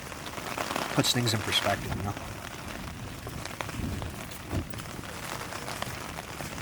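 Rain falls steadily through a storm in the Alaska mountains, a soft broadband patter that continues throughout, while someone talks briefly over it.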